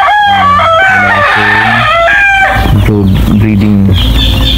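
Chickens and chicks in a breeding pen crow and cluck loudly nearby, with repeated harmonic calls overlapping in quick succession.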